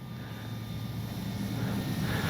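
An FMS RC model plane flies overhead as a thin, buzzing propeller drone that slowly swells louder while it turns, heard alone outdoors with no talk.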